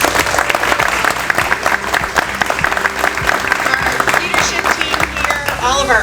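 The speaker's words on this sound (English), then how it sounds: "if we could all applaud our team members" Steady, dense applause fills a building dedication ceremony as an audience claps for a team of staff, loud and continuous throughout with a murmur of voices mixed in.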